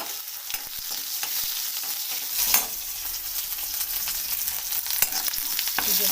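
Onions frying in hot mustard oil, a bright crackling sizzle with irregular spatula knocks and stirring scrapes, close and steady throughout.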